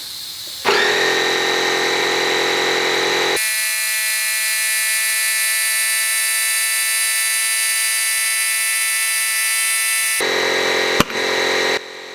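Compressed air is blown into a Subaru front brake caliper to pop out a piston: a loud, steady whistling hiss runs for about ten seconds, then breaks into short, sharp bursts with a sudden pop.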